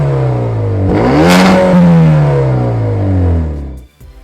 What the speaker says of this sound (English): makes your neighbor hate you for waking them up in the morning when you start the car